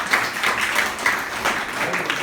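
Children clap together during a good-touch bad-touch awareness session at a composite school in Azamgarh, a soft, steady patter of many small hands running for a couple of seconds with faint voices underneath.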